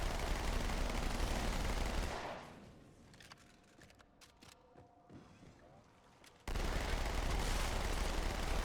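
Gunfire and energy-beam shots in the Halo 2 video game. Dense, loud firing fills the opening seconds, drops away into a quieter stretch with scattered clicks and tones, then a loud burst of fire returns.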